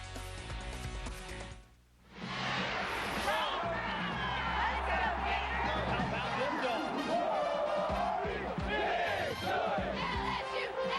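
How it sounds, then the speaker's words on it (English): A large crowd roars and chatters in the BJCC Arena in Birmingham before the 2006 SEC Gymnastics Championships, with a dense, echoing swell of voices after a brief dip, and a commentator speaking over it. "The crowd beginning to file in to downtown Birmingham's BJCC Arena"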